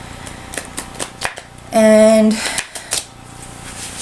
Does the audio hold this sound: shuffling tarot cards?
yes